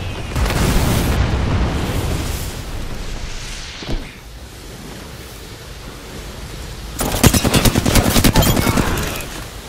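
Enemy gunfire in the Apex Legends Olympus map, a loud roaring blast and rumble followed by a rapid burst of sharp, closely spaced shots near the end.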